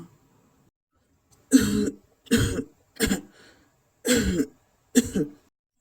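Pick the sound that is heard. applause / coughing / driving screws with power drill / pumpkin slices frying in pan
coughing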